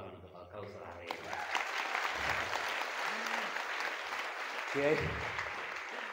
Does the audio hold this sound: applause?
yes